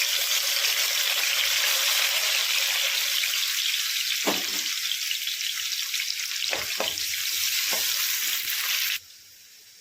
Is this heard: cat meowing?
no